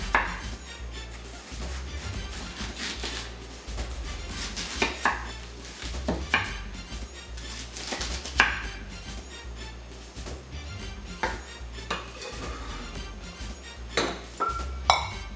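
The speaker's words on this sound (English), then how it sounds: "So I like to just do these really thin little slices here." A knife cuts an onion into very thin slices on a board, giving a steady run of sharp chopping taps with a few louder knocks against faint kitchen background, no talking.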